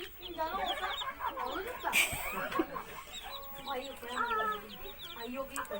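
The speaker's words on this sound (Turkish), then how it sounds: "bunlar annemin civcivleri" A crowd of three- to four-day-old chicks cheeping nonstop, close by, with high peeping calls overlapping and a voice murmuring faintly now and then.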